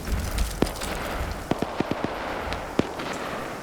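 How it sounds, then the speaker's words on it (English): Grenade detonations in a multiplayer PvP shooter game: a handful of short sharp cracks and pops, one early, a quick cluster of four in the middle and a final louder burst, over a low continuous rumble. "Oh, that's a grenade."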